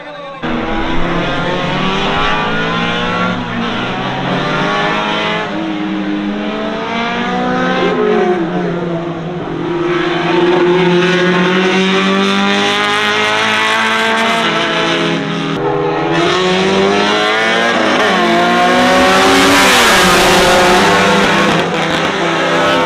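Racing cars in a fast, close contest accelerate hard and overtake, their engines loud and near, revving and shifting pitch continuously with layered, rising and falling whines through the whole stretch.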